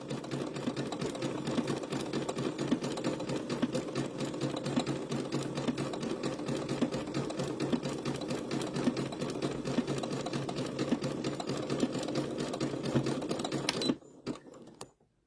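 A sewing machine stitches Sunbonnet Sue and Sam quilt blocks, its close, steady whirring hum running without pause before cutting off abruptly near the end.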